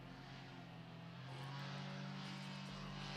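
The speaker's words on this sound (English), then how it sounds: "Opening the throttle to go round the first turn." A paramotor engine at a slalom championship, a steady distant propeller drone that swells louder as the throttle opens, heard alone at low level.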